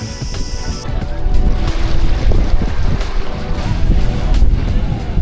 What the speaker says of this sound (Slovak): Dve loďky prišli pre ľudí.